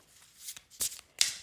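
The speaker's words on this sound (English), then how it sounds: "I'm shuffling the cards at the moment." Tarot cards being shuffled by hand, three short riffling bursts with soft papery rustle between them, close and fairly quiet with no talking.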